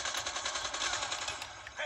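Rapid machine-gun fire from the mobile shooter Call of Duty Mobile, played with a controller on an Android device, rattles in dense, continuous bursts at close range.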